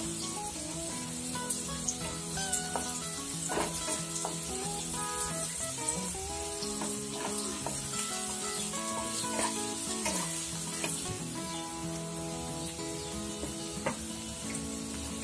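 Onions fry and are stirred in a pan on a medium gas flame for a potato and pea curry, giving a steady sizzle with occasional scraping under a continuous tonal background.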